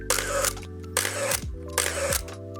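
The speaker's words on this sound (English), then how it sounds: "The only trouble with these cameras when you're shooting on the streets is that this noise can be quite jarring." A film camera fires its shutter and winds on three times in a row, each a sharp mechanical snap followed by a whirring, ratcheting advance. The sound is close and dry, with no talking.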